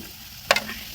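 Oil hisses and sizzles quietly as puris fry, then a brief, sharp crackle of frying bursts out before settling back to a soft sizzle.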